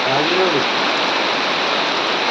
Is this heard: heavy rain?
yes